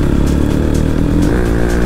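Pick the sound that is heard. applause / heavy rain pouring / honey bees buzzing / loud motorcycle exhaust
loud motorcycle exhaust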